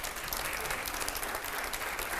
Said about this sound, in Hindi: अब जरा जोरदार तालियां हो जाए अगले सवाल के लिए